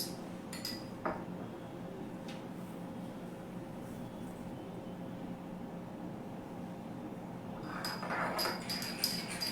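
Metal spoons clinking against bowls and dishes while a Holi-themed cake is decorated with colours in a kitchen, a few light taps early and a cluster of clinks near the end over a steady low background hum.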